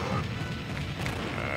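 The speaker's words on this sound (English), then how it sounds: "It was X bombs." Rapid, overlapping X bomb explosions from Super Smash Bros Ultimate, heard as a dense, loud barrage of crashing blasts that carries on without a break, with faint voice sounds mixed into the game noise.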